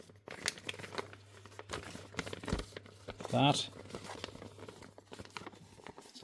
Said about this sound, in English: it's a plastic bag with one tiny screw.